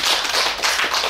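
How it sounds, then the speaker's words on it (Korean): Audience applause at a Korean national poetry recital competition, a short burst of steady, dense clapping from a seated crowd, no voices over it. "여러분 다시 한번 큰 박수 부탁드립니다."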